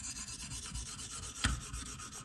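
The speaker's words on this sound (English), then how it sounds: "I bumped up to the 300 grit diamond stone." A knife blade drawn across a 300 grit KME diamond stone in a steady series of close, dry rasping strokes, with one slightly louder scrape midway.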